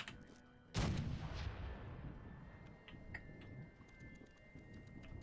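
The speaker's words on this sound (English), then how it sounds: "Can we shoot the cannon?" A single loud cannon blast in Fallout 76 booms sharply and close, then rolls away in a long decaying rumble. Faint clicks and game ambience follow.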